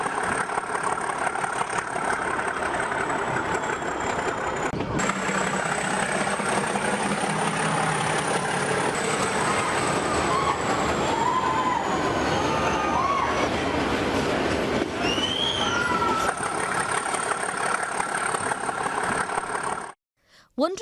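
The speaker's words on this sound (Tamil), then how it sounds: "நீராவி என்ஜின் மூலமாக தற்போது வரை பழமை மாறாமல் நீலகிரியில் மலை ரயில் இயக்கப்பட்டு வருகிறது." The Nilgiri Mountain Railway steam engine toy train in Ooty runs nearby with a continuous rumbling chug and rolling rattle, while high squeals and whistle-like tones rise and fall over it.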